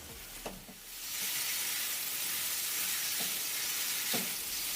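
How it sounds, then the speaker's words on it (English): Paneer tikka sizzles hard in a hot pan, with a steady, loud hiss that swells after a second and carries on unbroken, broken only by a few faint clinks near the start. "Our paneer tikka is sizzling and smoking hot."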